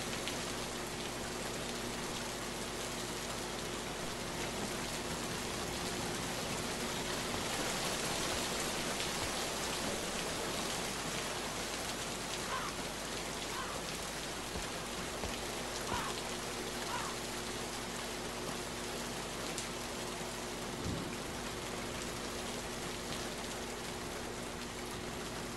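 Rain falls steadily as a quiet, even hiss with soft scattered drops, continuous and unbroken, with no voices.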